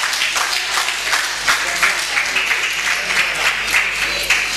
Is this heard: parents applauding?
yes